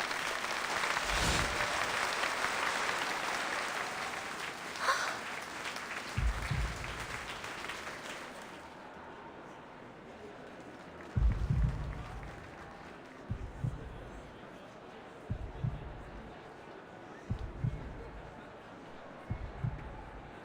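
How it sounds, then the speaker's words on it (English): A circus audience at the Utrenia Circus in Reverse 1999 breaks into loud, sustained applause and cheering for a wire-dancing acrobat; the dense roar fades after about eight seconds, leaving quiet low thumps pulsing at a slow, heartbeat-like rhythm. "Cheers and shouts, applause and heartbeats."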